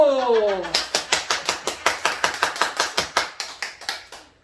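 Steady rhythmic hand clapping from a Sunday church congregation, evenly spaced sharp claps heard close up for several seconds, following a short spoken bit at the start.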